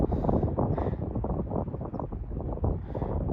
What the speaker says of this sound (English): It's pretty wild and windy up here.